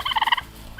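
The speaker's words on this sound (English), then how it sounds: "taunting the turkeys" Turkeys gobble on a farm: one close, loud burst of rapid rattling gobbles, then a faint call trailing after in the quiet.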